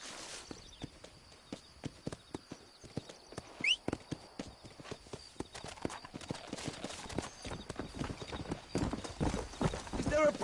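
Horse hooves clip-clop steadily in Red Dead Redemption, a fast walking rhythm of close, sharp knocks running throughout, with a brief whinny and voices talking over the hoofbeats.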